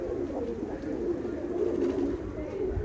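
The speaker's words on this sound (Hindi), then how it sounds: "और कबूतर खोल दिए।" Pigeons cooing steadily and close by as a flock is let out, a continuous low throaty murmur lasting throughout with faint background noise.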